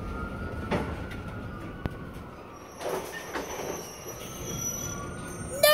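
A passing train with squealing wheels: thin high-pitched metallic screeches rise and fade over a constant rolling rumble, with a few louder thumps along the way.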